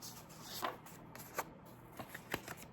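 A paper note card and several source sheets are handled, with soft papery rustles and a few crisp flicks, faint and close.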